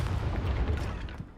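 A Confringo blasting spell fired in Hogwarts Legacy, producing a short booming burst with a rumbling low tail that fades over about a second, with no talking.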